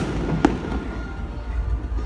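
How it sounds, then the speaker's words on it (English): A single sharp firework bang cracks out, followed by low rumbling echoes and a duller distant pop, fairly close and loud. "Let's go teach those fireworks a lesson."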